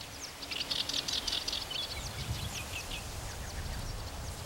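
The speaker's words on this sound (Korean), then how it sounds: "개개비의 울음소리는 봄이 지나 여름이 오고 있음을 알린다." Oriental reed warbler singing in a reed bed by a tidal lake, a steady run of loud, rapid chirping phrases repeating close by over a low background murmur, with no voices.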